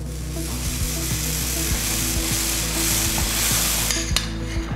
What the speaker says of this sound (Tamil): கறி தோசைக்கு மாவு நிறையா ஊற்றணும்.